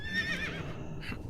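A horse mount in World of Warcraft gives a single short whinny, clear and fairly close, with a faint clip-clop of hooves beneath it.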